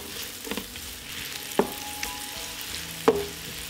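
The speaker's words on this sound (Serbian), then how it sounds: "Na istopljenom puteru propržit ću crni luk. Dodajem i seckani beli luk i sve ću zajedno propržiti." Onion and garlic frying in melted butter in a pan, a soft steady sizzle with a few sharp clicks of a spoon stirring, close and alone with no talk.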